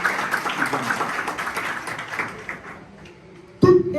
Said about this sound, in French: S'il vous plaît, battons un applaudissement pour 4 de